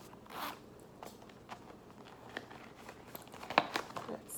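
A small zipper on a bright orange cosmetic bag is pulled in a few quick rasping strokes, close and fairly quiet, amid light rustling and handling noises.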